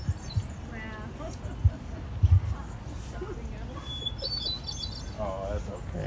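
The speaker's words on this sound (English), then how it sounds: "Yes, all the birds are welcome for this last piece." Birds chirp outdoors at a piano gathering, with a few short trilling calls and higher twitters heard faintly over a low background rumble and occasional bumps.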